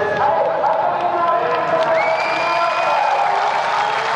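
Rally spectators at a 2009 European Rally Championship event applauding and cheering after a car crash, a dense continuous crowd roar with scattered whoops and a whistle.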